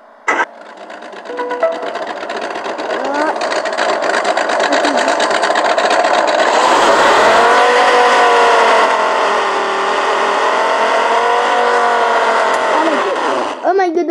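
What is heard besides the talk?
4x4 car engine starting and revving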